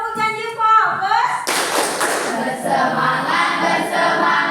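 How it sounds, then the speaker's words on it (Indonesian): A class of children performs a clap routine, starting with voices and then breaking into loud, rhythmic group clapping mixed with chanting and shouting. "Coba kita tepuk janji fokus dulu."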